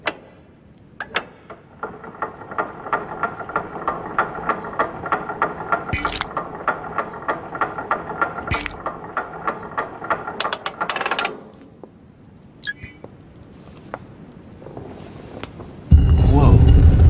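Mechanical shield mechanism in the game The Council turns with a long run of rapid ratcheting, gear-like clicks, then sharp metallic clanks and a few isolated knocks, ending in a louder rumble.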